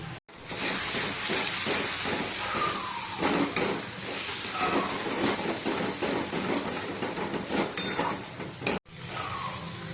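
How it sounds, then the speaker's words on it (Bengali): Potatoes for a Bengali meat curry frying in hot oil, a loud, steady hiss that fills the scene with brief stirring bumps and one short break near the end. "আর এতে মাংসের আলুটা ভাজছি"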